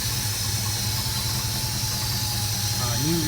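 A 1972 Ford F250 with an FE 360 V8, new rebuilt carburetor and electronic ignition distributor idles steadily, a constant low rumble with hiss, and a short tonal sweep near the end.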